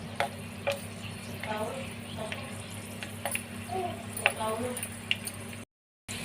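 Garlic cloves sizzling in hot oil in a home kitchen, a steady close frying hiss with scattered pops and spoon-stirring scrapes throughout.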